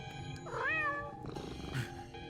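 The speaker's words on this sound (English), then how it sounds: "Thank you for the meow" A single close, rising and falling cat meow sounds clearly in the game Darkside Detective: A Fumble in the Dark, followed by a softer short vocal chirp, over a faint background hum.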